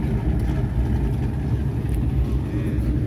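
A classic car's engine runs with an open exhaust at an outdoor car show, a steady, loud, low rumble lasting throughout, with faint voices in the background.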